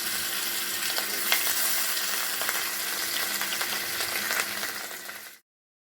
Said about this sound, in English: Fry the fish for a while in low temperature.